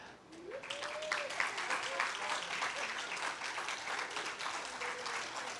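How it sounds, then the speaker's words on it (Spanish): Church congregation applauding for a girl named Sofía, a steady wash of clapping from many hands at moderate distance, with voices and brief tonal sounds mixed in throughout. "yo quisiera que ustedes le dieran, cuando ya esté aquí, un fuerte aplauso a nuestra Sofía"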